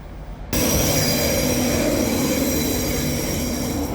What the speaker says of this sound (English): we're watching an intercity leave.